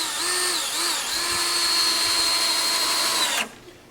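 Power drill driving 2-inch screws into a wooden runner for a trap door, a loud steady high whine with short revving dips near the start, then cutting off abruptly near the end.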